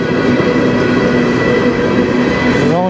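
A CN eastbound manifest freight train on the Strathroy Subdivision rolls steadily past close by, a loud continuous rumble and rail drone with a rising tone near the end.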